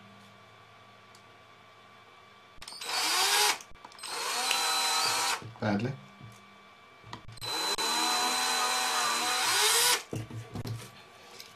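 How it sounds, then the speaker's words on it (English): Two long bursts of a high-pitched electric drill whirring through material to make an LED hole, loud and close, with brief pauses and a short spin-up between them. "I'm going to drill a hole now for my LED."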